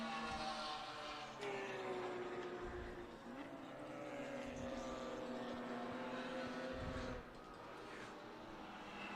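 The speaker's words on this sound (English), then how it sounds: "That's a Porsche GT4." A Porsche GT4 race car drives a track during an endurance race at Laguna Seca, its engine note a sustained, distant drone that rises and falls in pitch as it passes and shifts, with no talk.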